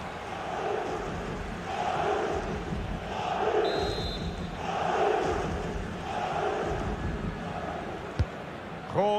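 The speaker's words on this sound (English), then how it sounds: "Well, just listen to the crowd." A stadium crowd roars through a FIFA 24 Champions League match between Real Madrid and PSG, a steady swelling wash of massed voices that rises and falls in waves, with a short whistle near the middle and a couple of thuds at the end.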